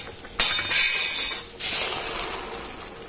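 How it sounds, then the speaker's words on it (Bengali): Dried peas (kalai) tip into spice masala in a pan for ghugni, a couple of bright rattling, clinking bursts that settle into a softer sizzle. "এবার কিন্তু কালাইটা দিয়ে দিব মশলাতে।"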